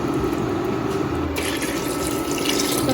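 Water pours steadily into a cooking pot to make sambar stock with lentils, a continuous close splashing stream that brightens and grows louder partway through, with no voices.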